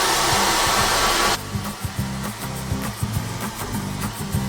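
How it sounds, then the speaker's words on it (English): A loud, steady hair dryer blows on acrylic paint for about a second and a half, then cuts out, leaving soft tapping and handling noises. "Picking up my hairdryer, I'm going to dry this."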